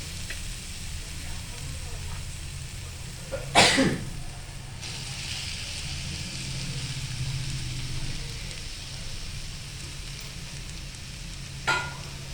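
Potatoes are added to a hot, salted pan for vada pav filling, producing a steady close sizzle that continues throughout, broken by a sharp burst early on and a brief knock near the end.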